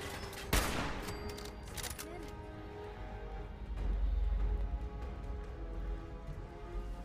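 Slow-firing gun in the video game Fallout 4: one sharp shot near the start, then scattered fainter shots and rumbling combat noise under a low background.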